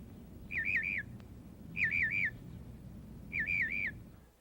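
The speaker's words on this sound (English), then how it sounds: "Here the rufous fantail of Australia, caring for her young." A rufous fantail of Australia calls in three evenly spaced bursts of warbling, wavering whistled notes, each about half a second long, clear over a low steady background rumble.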